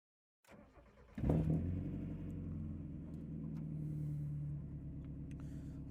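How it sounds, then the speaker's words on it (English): A Mazda Miata with an ISR exhaust starts up and drives, a deep loud exhaust rumble settling into a steady droning cruise heard from inside the car. "has an ISR exhaust, so it's going to be pretty loud"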